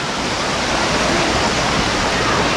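Fast-flowing river water rushes steadily over rocks at Sungai Tua, Ulu Yam, a loud, dense continuous roar close by with no break.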